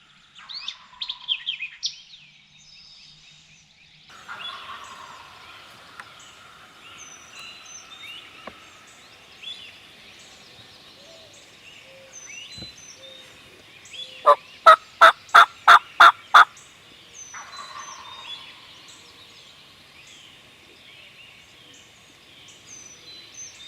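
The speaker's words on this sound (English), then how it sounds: "We got two birds gobbling." Two wild turkeys gobble in the Georgia woods during a hunt, their calls carrying from a distance with bird chirps between, and a loud burst of rapid sharp clucks in the middle.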